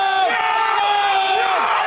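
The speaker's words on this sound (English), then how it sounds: "It begins with the crowd screaming as an officer moves in, running after a man." A crowd at an unsanctioned nighttime car event in Ocean City screams and yells loudly as a police officer moves in, sustained shrill voices with rising and falling cries filling the scene.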